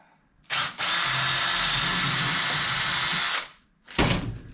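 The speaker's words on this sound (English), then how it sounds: "So Dom's just making pilot holes for the pot rivets" A power drill bores pilot holes for pot rivets while a two-stroke silencer is being repacked: a short whine, then one sustained high-pitched run lasting about three seconds, then another brief burst, loud and close, with no talk.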